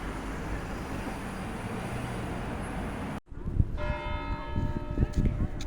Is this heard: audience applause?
no